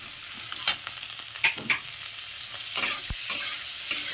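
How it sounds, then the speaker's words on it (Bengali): Onion, ginger and garlic frying lightly in a pan for a butter paneer dish, a steady soft sizzle with occasional stirring scrapes, close and without talk. "এবার এটাকে একটু হালকা ভেজে নেব"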